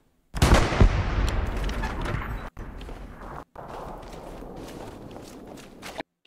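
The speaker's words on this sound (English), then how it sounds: "It's artillery guys. They're shooting." Artillery and gunfire rumble through a Hell Let Loose battle: a heavy blast opens, then a continuous barrage of booms and shots rolls on for several seconds, loud and close, broken by brief cutouts.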